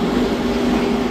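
Howrah–NJP Vande Bharat train slowly pulling into Howrah station, a loud, steady rumbling drone that holds evenly throughout with no voices.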